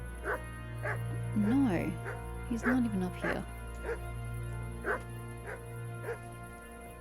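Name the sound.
dog barking in video game Kingdom Come: Deliverance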